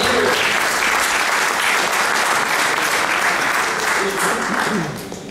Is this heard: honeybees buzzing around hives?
no